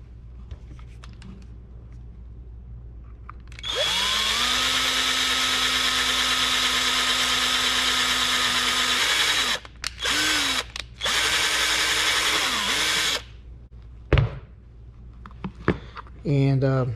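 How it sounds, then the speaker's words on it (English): A power drill whines steadily for several seconds while drilling a hole, stops, restarts in short bursts, then cuts off; brief speech follows at the end. "And we got that hole drilled."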